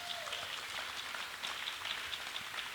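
A crowd applauding steadily, a dense wash of clapping at moderate distance with no voices over it.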